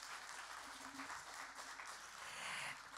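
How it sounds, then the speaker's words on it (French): Audience applause at a Transition Forum housing pitch session in France after a speaker finishes; sustained, even clapping heard at moderate distance, with some murmuring underneath. "on peut l'applaudir"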